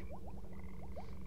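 Repeated short upward croaks from the frog guarding the fish in the Grim Tales hidden-object game, six or seven quick chirps in an irregular rhythm over a steady low game-music drone.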